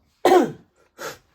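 A person gives a sharp, close throat-clearing cough, followed a moment later by a second, softer one, both loud and isolated against silence.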